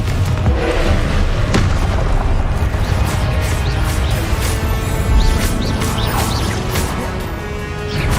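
Confringo fire curse blasting in Hogwarts Legacy, a dense run of loud booming explosions and crashing impacts that keeps on through the whole stretch, with debris-like cracks over a heavy rumbling low end and no talk.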